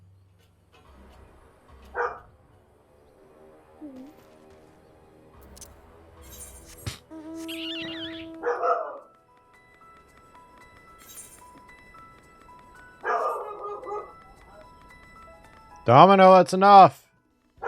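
A pet dog barks indoors, giving a few scattered woofs and a louder yelping bark near the end, while a person speaks nearby.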